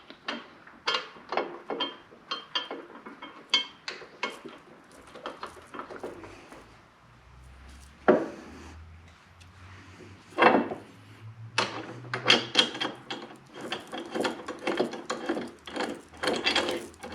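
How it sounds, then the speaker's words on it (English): Metal bolt being fitted and tightened while mounting a highway bar on an Indian Challenger motorcycle, with a run of close, sharp clicks and clanks, a few louder knocks, and a faint low hum underneath. "So we're gonna first attach the top bolt."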